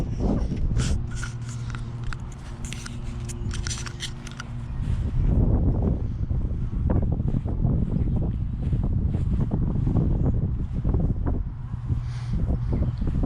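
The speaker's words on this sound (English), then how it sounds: "It's kind of windy" Gusty wind buffets the microphone with low rumbling thumps and roaring bursts, continuous and close throughout.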